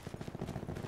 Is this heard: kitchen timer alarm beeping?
no